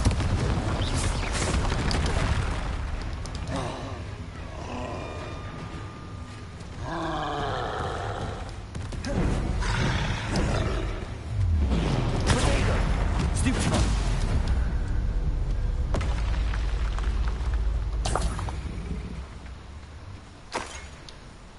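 A Confringo fire-blast spell in Hogwarts Legacy bursts into heavy booms and roaring rumbles, with several loud blasts scattered through a dense mix of game effects and a voice.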